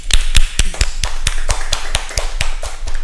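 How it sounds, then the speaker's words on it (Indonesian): A few people clap at a dermatology clinic podcast in a small, close room, with sharp distinct claps in an uneven rhythm, roughly a dozen over a few seconds. "Tepuk tangan dong."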